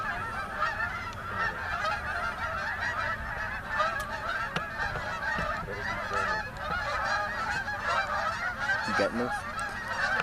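A large flock of geese honks steadily as it drops in to land during a Pennsylvania goose hunt, many overlapping calls forming a loud, dense, continuous chorus for the whole stretch, with one brief spoken line from a nearby person.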